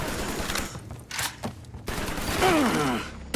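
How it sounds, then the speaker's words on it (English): Gunfire in the video game Mafia 3: several sharp, close shots and short bursts in quick succession, with a brief scraping, creaking sound near the end. "Boy knows how to shoot."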